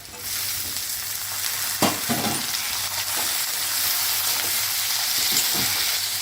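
Onion and chopped tomato frying in a pan for cabbage thogayal, a constant close sizzle with a few clicks and scrapes of stirring.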